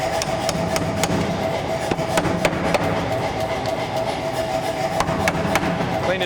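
A power hammer forging steel pounds in rapid, irregular sharp blows, loud and close, over a steady mechanical hum.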